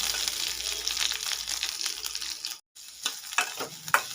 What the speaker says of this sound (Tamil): இதோடு வந்து நறுக்கி வச்ச வெங்காயம் பெரிய வெங்காயம் ஒன்று அதை சேர்த்துக்குவோம் அதை சேர்த்து நல்லா வதங்கட்டும்